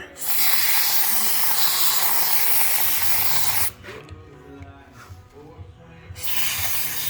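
A loud, steady hiss of closed-cell spray foam from a wide spray tip for several seconds, a brief pause with faint handling noise, then spraying resumes.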